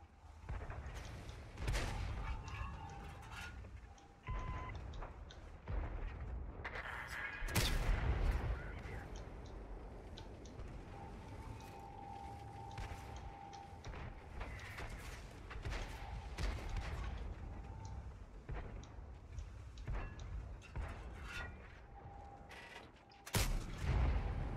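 Repeated loud booms and blasts of artillery fire in World of Tanks, including the Bison tank's shots, scattered irregularly over a low rumbling battle background with no speech.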